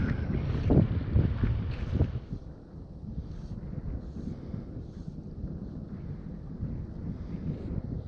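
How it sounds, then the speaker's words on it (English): Steady wind buffets the microphone outdoors near water, a constant rumbling roar with a few stronger gusts early on. "Starting to get windy, but see how it goes."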